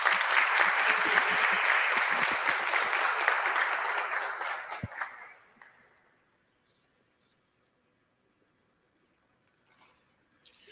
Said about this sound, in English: give a round of applause to our guest for the day, Mr. David Dennis Jr.